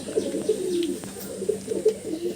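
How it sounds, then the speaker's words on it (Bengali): In a loft, Andhra Pradesh pigeons give low, throaty coos in repeated short bursts that run through the whole moment. Soft chirps come in now and then, and no one speaks. "অন্ধ্র থেকে আনা পায়রাগুলো আপনারা দেখুন"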